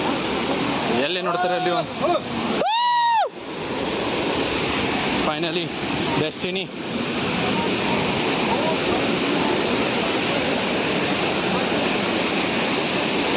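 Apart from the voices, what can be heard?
Sada and Chikhale waterfall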